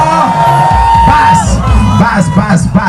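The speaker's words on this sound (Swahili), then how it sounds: "Wapi shangwe na vigeregere?" A lively crowd at a Kikuyu celebration cheers, shouts and ululates, loud and close, with one long wavering trill among many overlapping voices and whoops.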